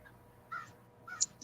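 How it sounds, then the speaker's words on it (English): Crows cawing outdoors in a windy spot, two short calls about half a second apart, faint and somewhat distant with no talk over them. "There's crows out here like crazy."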